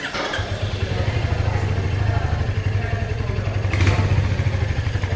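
Royal Enfield Hunter 350 or Yamaha motorcycle idling, a steady low thumping exhaust note that runs close and loud throughout, with a brief rise in intensity near the end.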